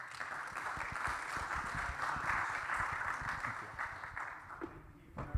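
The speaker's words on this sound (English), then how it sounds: "So, again, a huge round of applause." An audience at a software developer conference, CraftConf, claps for a speaker, producing a sustained dense crowd applause that swells and holds for several seconds before thinning out at the end.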